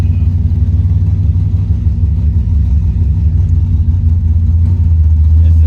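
A Camaro engine with a leaking header gasket runs close and loud, a steady low idle rumble with slight rises in pitch as it is revved, no voices over it.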